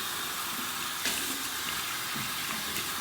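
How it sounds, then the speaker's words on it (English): Warm water runs steadily from a tap to rinse soap out of an Omega 10066 boar-bristle shaving brush, a close, continuous splashing hiss with small changes as the brush moves through the stream. "Use some warm water here"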